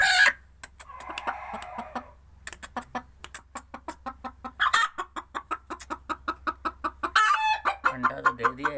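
A hen sitting to lay an egg clucks repeatedly in short rhythmic bursts, close by, with a few louder squawks breaking the pattern; no talking.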